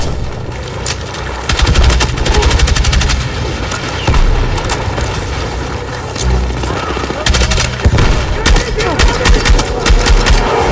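Heavy gunfire in the Battlefield 6 video game campaign, loud dense bursts of rapid automatic shots and booms overlapping continuously, with shouted voices mixed in.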